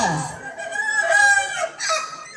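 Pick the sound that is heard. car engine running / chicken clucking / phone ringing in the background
chicken clucking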